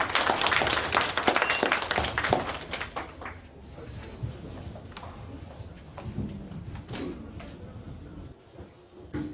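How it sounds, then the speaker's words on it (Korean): Applause from a conference audience opens as a dense patter of clapping, then thins out into scattered claps and room noise. "박수로 맞아주시죠."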